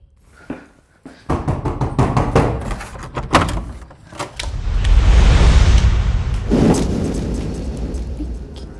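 Sharp, loud knocks and thumps bang on a door in irregular bursts, followed by a heavy rumble like thunder and rain, with a few more knocks as the rumble fades.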